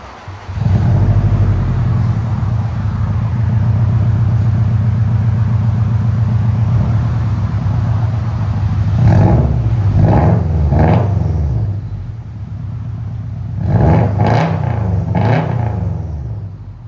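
2015-2021 Subaru WRX STI 2.5L turbo with a custom exhaust, idling with a loud, steady low rumble, then revved hard several times in two bursts of rising engine roar, close by.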